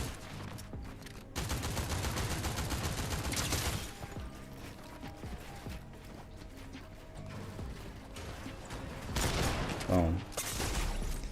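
Shotgun gunfire in a first-person shooter game, with bursts of booming shots and clattering mechanical sounds repeating over several seconds amid other in-game noise.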